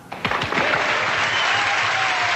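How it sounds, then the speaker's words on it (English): Burst of studio applause played as a cue in a true-crime podcast, a crowd's steady clapping rising quickly and holding loud and dense throughout, with no talking over it. "Okay, cue the clap now."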